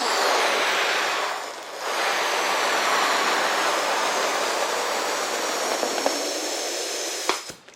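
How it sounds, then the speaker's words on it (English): Air rushing through a trigger valve into a latex balloon inside a transparent foil globe balloon gives a steady, loud, close hiss that runs for several seconds, dips briefly near the start, and has no talk over it. "I'm going to put the trigger valve into the latex and just inflate."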